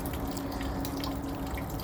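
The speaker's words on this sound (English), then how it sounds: "as you can hear, there's some water running" Meltwater runs and drips steadily as frozen ice thaws in falling rain among ice-coated trees, a soft continuous wash of liquid with a faint low hum beneath, holding at an even level throughout.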